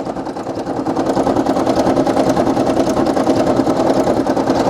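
A Brother PE800 embroidery machine stitching a logo onto a T-shirt, a steady fast mechanical whirring and rapid rhythmic clatter of the needle, close and continuous throughout.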